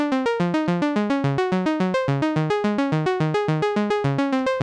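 Randomized synth notes in Ableton, driven by an arpeggiator with an LFO shifting the scale's root note every two bars; a steady stream of quick, bright plucked tones hopping between pitches, moderately loud, with no voices.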